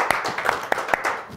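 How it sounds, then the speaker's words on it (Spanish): Brief scattered handclaps from a studio audience on a Spanish basketball talk show, a handful of sharp claps spread unevenly across a second and a half. "un aplauso"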